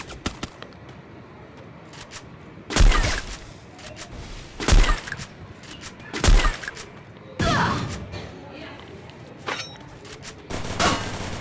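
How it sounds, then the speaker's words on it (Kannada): In the Free Fire mobile game, a grenade launcher fires as a series of five or six loud, separate blasts at irregular intervals, each a sharp burst with a short decay, over quiet game ambience. "ಇದೆಲ್ಲ ಹಾಕ್ಬಿಡ್ತೀನಿ ಗ್ರೆನೇಡ್ ಲಾಂಚರಲ್ಲಿ"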